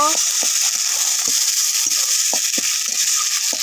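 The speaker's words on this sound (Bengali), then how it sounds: "একটু নেড়ে চেড়ে নেব।" Cabbage leaf and stone-ground paste with salt and sugar fry in a wok, giving a steady loud sizzle throughout, broken by scattered scraping knocks of stirring.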